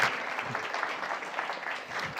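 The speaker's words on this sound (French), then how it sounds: "On peut t'applaudir parce que tu es le nouveau président d'Evry Can Count nommé cette année" An audience at an awards ceremony applauds warmly, a continuous even patter of many hands held at moderate loudness throughout, without any talking over it.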